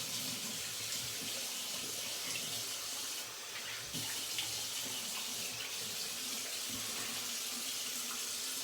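Water runs steadily from a tap while rinsing after a straight razor head shave, a continuous close hiss with a brief dip partway through and no speech.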